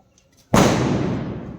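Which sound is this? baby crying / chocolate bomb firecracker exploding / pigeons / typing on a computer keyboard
chocolate bomb firecracker exploding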